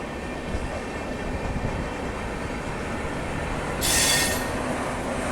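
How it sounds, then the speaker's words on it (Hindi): The Sampark Kranti Express from Delhi to Darbhanga rolls past at close range, a continuous heavy rumble of wheels on track with a brief high squeal near the end. "तो ये सामने जा रही है दिल्ली से दरभंगा बिहार संपर्क क्रांति एक्सप्रेस।"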